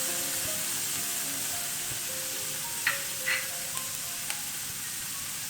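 Tomato puree hits sauteed masala in a hot pan, giving a steady soft sizzle and frying hiss with a few brief stirring scrapes, with no talking.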